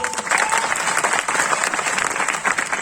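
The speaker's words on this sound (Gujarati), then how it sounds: "ત્યાં પેલા બેઠેલા ખાખી વર્દીવાળા બહેનોના માટે જોરદાર તાળીઓ." An audience gives dense, continuous applause at a public gathering, honouring women in khaki uniforms, with a faint murmur of voices underneath.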